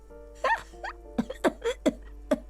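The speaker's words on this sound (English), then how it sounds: "The cleaning lady starts laughing, but it turns into a violent coughing spasm." A cleaning lady in the video game Disco Elysium breaks into a violent coughing fit, a string of harsh, separate bursts coming close together over a quiet background with faint ambient tones.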